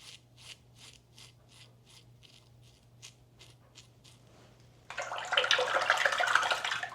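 A used Harry's razor cartridge is swished and rinsed in water, a brief burst of splashing and rushing water after a quiet stretch of faint rhythmic ticking.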